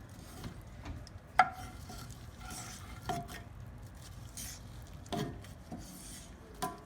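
Onions, garlic and ginger stirred in a pan, a quiet scraping and shuffling with a few sharp clinks of a utensil against the pan, faint and fairly close, no talking.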